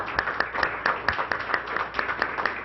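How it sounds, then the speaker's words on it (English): An audience at a school general session gives a round of applause honoring student champions, including a girls golf team, with steady dense clapping throughout at moderate level and no one speaking. "let's have one more round of applause for all of our champions"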